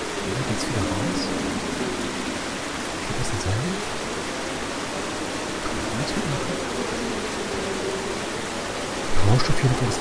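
Steady rushing flow of water in the horror adventure game Dracula Resurrection, a continuous broadband wash with faint drips and splashes, holding even throughout and swelling slightly near the end, with a voice briefly over it.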